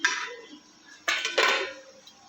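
Pots and utensils clatter while a potato curry cooks, with a few short metallic clinks and scrapes in a quiet kitchen.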